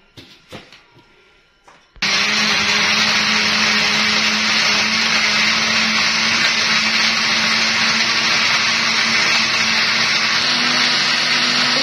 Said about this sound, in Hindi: इसको हम अच्छे से ब्लेंड कर लेंगे।